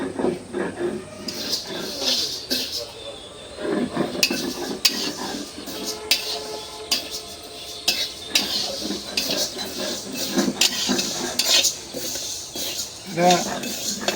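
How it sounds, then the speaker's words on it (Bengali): Mung dal being fried in a pot, with a near, continuous scraping and stirring clatter of a utensil against metal, and a voice talking now and then. "মুগ ডালটা ভাইজা নিতেছি"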